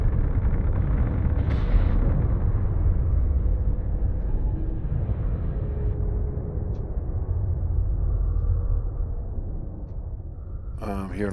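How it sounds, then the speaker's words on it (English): Rumbling explosions and heavy weapon blasts from combat in the space video game Space Engineers, a continuous loud low roar with a sharper burst near the start and a crackling flurry at the end. "I'm hearing lots of explosions."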